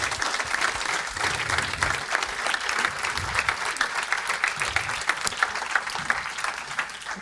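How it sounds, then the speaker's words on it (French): Audience applause fills a hall at an awards ceremony, a dense, steady clatter of many hands clapping that holds at an even level throughout without easing off. "Vous pouvez l'applaudir."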